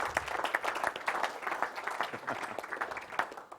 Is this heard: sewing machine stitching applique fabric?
no